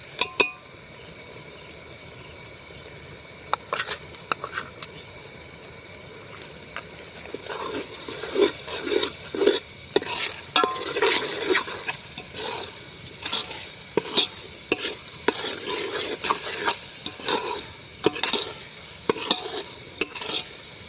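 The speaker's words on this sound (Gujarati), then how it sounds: "તો હવે નાખી દઈએ આપણે લીલું મરસું અને સાથે સાથે નાખી દઈએ લસણ" Green chilies and garlic fry in a pan during outdoor cooking at a farm, with a steady sizzle under repeated clattering stirs of a utensil against the pan that grow busier partway through.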